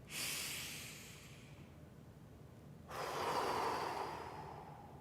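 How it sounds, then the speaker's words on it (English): Two long, deep breaths, one drawn in airily at the start and a second fuller, louder exhale after a short pause, close and alone in a quiet room. "take 3 deep breaths, and like long ones"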